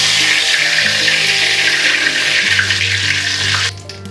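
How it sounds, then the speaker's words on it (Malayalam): Mustard seeds hit hot coconut oil and set off a loud, steady spluttering hiss that runs without a break, then drops off sharply near the end. "വെളിച്ചെണ്ണ ഒന്ന് ചൂടായിട്ടുണ്ട്. അതിൽ കടുകൊന്നിട്ട് കൊടുക്കാം."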